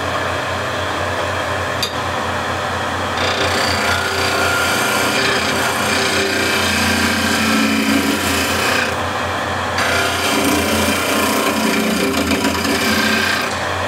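Skew chisel cutting an osage orange mallet on a spinning wood lathe, a continuous loud raspy scraping hum that shifts in pitch and texture as the tool moves along the hardwood, with no talking.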